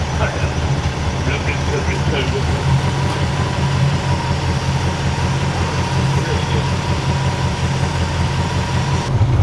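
A 1969 Ford F250 Crew Cab engine idles steadily and close by, a low continuous rumble with even rhythm throughout, running after sitting abandoned for 21 years.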